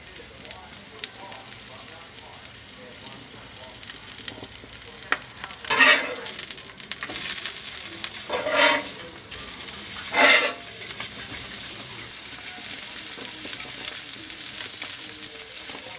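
Mackerel, vegetables and wedges sizzle steadily on a Weber barbecue outdoors, a constant crackling hiss with a few louder bursts of spitting, close by and without talk.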